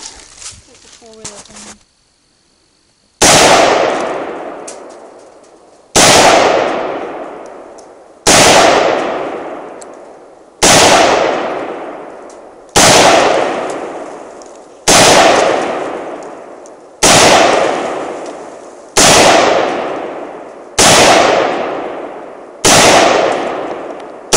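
Rifle rounds, 5.56mm and 30-06, fired one after another into a hard drive: ten loud, sharp shots at a slow, steady pace of roughly one every two to three seconds, each with a long ringing decay, preceded by brief talk.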